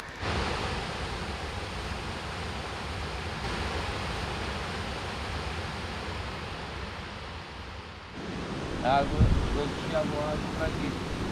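A waterfall on a riverside mountain farm with olive groves gives a steady, broad rushing roar for several seconds. The sound shifts near the end, where faint voices and handling noises come through.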